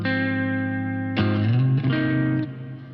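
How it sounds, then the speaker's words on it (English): An electric guitar played through a reverb effect rings out in sustained chords, changing twice with a soft strum and leaving long, washy tails. It sounds close and fairly loud, with no voices. "A reverb sound like this"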